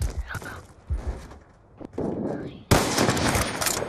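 Gunfire in a sniper versus machine gun video game duel comes as sharp, loud bursts and a dense rattling stretch in the second half, with scattered game sounds before it.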